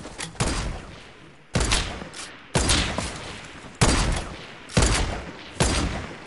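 Semi-automatic sniper rifle fire in a video game: six loud, sharp shots at uneven intervals of about a second, each with a booming report that trails off, and no talk.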